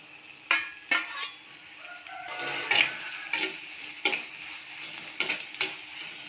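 Chopped tomatoes and green chillies sauté in a pan with a quiet, steady sizzle, broken up by sharp scraping strokes of a spoon and occasional light clinks of metal, close by and with nobody talking.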